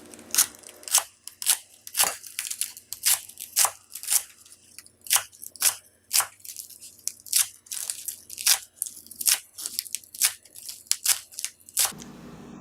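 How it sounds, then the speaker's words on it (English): A knife chops lettuce into half-inch pieces on a board, giving about two dozen crisp, crunchy cuts in a quick, fairly even rhythm, close and clear with no talking. "When you cut the lettuce, probably do about 1/2 inch"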